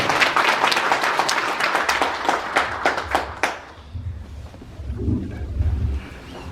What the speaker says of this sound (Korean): 이민 개척자라고 불리우시는 양창영 부이사장님을 큰 박수로 맞이해 주십니다.